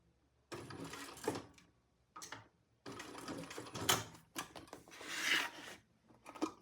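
Sewing machine stitching a quarter-inch seam while the threads are held, running in several bursts of whirring with short pauses between them, close and moderately loud.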